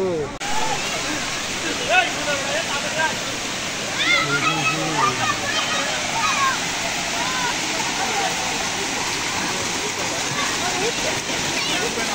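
Water rushes and splashes steadily at a water park in Bogura, a loud continuous wash with voices chattering over it for the first few seconds.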